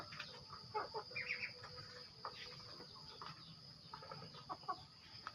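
Chickens cluck in a garden in Laos, with scattered soft clucks and calls over a steady bed of insect chirring, heard at a moderate distance with no talk.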